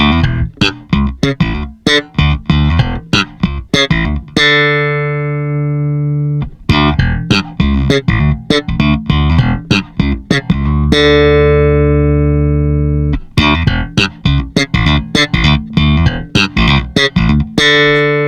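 A punchy, even compressed bass guitar riff of plucked notes alternating with long held tones, steady in level and played alone.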